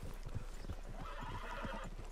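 A horse whinnies while hooves clip-clop in a steady rhythm in the Western video game Red Dead Redemption 2, moderately loud against a constant low background hum.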